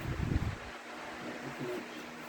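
A Lasko 1850 18-inch stand fan runs with a soft, steady whoosh of moving air, faint and even throughout after a brief low rumble at the start.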